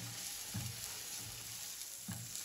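Garlic and the white parts of three medium green onions sizzle steadily in a hot pan, a constant close frying hiss with a few soft stirring bumps, no talk.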